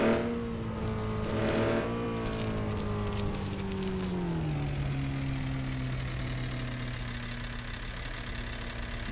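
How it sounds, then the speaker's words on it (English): A truck engine in a game revs loudly, then the pitch slides down into a steady, droning mid-range hum that holds for several seconds with no talking. "But let's see how well this truck will do."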